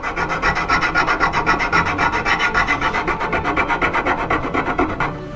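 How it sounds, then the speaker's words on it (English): A fine file rasps across a wooden furniture leg, end grain included, in fast, even back-and-forth strokes, close and loud with no talk. "So we go to our next finest file."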